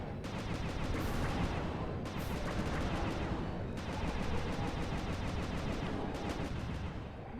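Rapid gunshots in Sly 2: Band of Thieves: fast, evenly spaced repeating shots in steady bursts with short pauses between, fairly loud and alone without talk.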